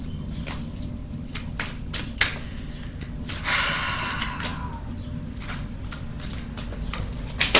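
Oracle cards handled and shuffled during a tarot reading: a run of soft paper flicks and taps, with a brief riffling swish in the middle, close and clear with no talking.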